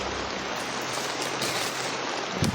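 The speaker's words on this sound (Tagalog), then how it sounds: "Sobrang lakas ng ulan" Heavy rain pours down steadily in a dense, loud, unbroken hiss, with no other sound standing out.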